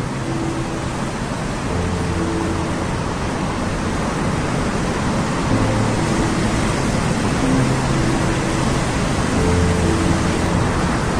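Bhivtas Waterfall on the Gujarat-Maharashtra border roars as a dense, steady wash of falling water, loud and unbroken throughout with a faint low hum underneath.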